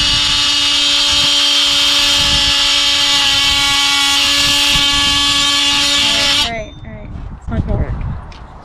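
A power saw whines at a steady, high-pitched tone as its blade cuts into part of a sailboat being prepared for launch, then winds down and stops, followed by a few clunks and bumps.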